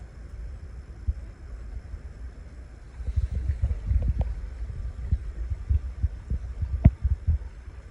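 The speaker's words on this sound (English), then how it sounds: "You hear the air pushing out." An antifreeze pump being bled pushes out trapped air in low, throbbing pulses and gurgling bursts, quiet at first and then rougher and more irregular, with one sharper pop near the end.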